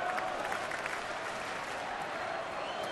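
Large baseball stadium crowd of over 27,000 at a Mets versus Brewers game in Milwaukee, a steady roar of cheering and applause filling the whole stretch without pause.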